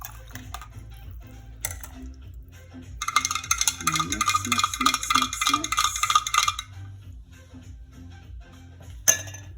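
A metal spoon clinks against a glass jar as hot Polish sour rye soup (zurek) is poured in. Quick rhythmic ringing taps run for a few seconds in a quiet kitchen, with softer handling sounds before and after.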